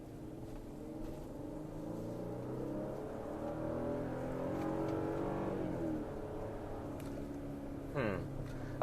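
A 2022 Toyota Tundra TRD Pro pulls away from a dead stop in S1 manual mode, its engine drone climbing steadily in pitch as it accelerates, easing near the end before a brief change in tone.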